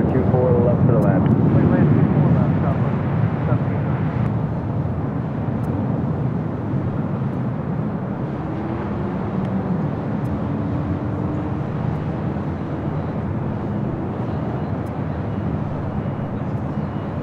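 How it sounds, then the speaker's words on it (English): A KLM Boeing 787 Dreamliner rolls down the runway at LAX on departure, a broad steady jet roar heard from a distance through wind buffeting, easing slightly after a louder start, with a faint voice over it. "the KLM Dreamliner flight 602 now rolls down, heading back to Amsterdam"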